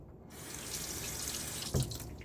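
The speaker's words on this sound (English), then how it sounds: "Let me get my face wet." Cold water runs steadily from a tap into a sink as a face is wetted during a wet shave, a close, continuous splashing hiss with a brief louder gush near the end.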